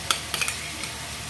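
Chicken curry is stirred in a pan over a soft sizzle, with a few brief utensil scrapes and taps against the metal.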